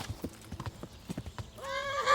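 In the video game Kingdom Come: Deliverance, quick hoof clip-clops patter along, then a horse lets out a loud, shrill neigh at the end.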